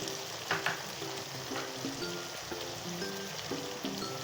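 A tomato masala sizzles in a pan with chili powder, coriander, turmeric, garam masala and black pepper, while a spoon stirs it in steady, repeated scraping strokes over a constant frying hiss, with no talking.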